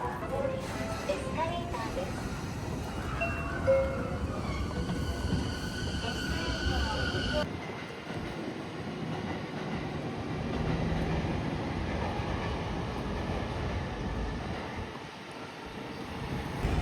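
A commuter train in Japan rumbles along the rails with a steady roar and a rising electric whine, then settles into a lower rumble, with voices and an announcement heard over it.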